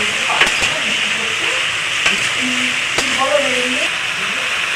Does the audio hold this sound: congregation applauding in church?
no